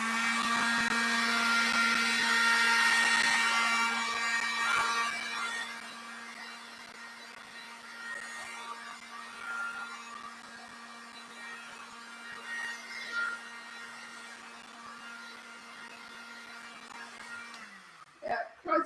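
A handheld heat tool dries wet gesso on an art journal page, giving a steady, close whirring hum for about seventeen seconds before it clicks off and winds down near the end.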